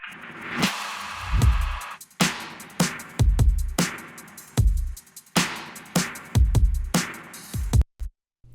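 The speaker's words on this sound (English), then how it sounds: "For now, our drum sounds like this." A punchy hip hop drum mix plays alone: deep kicks and sharp snare hits in a steady, looping groove.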